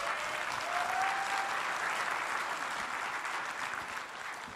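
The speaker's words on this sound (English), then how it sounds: "So let's give him a round of applause" An audience claps for a speaker being introduced at a security conference, a dense wash of applause that starts strong and slowly tapers near the end, heard from within the room.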